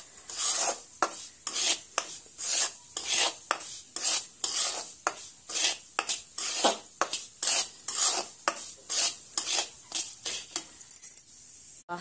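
Semolina (rava) is dry-roasted in a pan and stirred with steady, rhythmic scraping strokes about twice a second. Each stroke gives a gritty rasp with a faint sizzle, and the stirring stops just before the end.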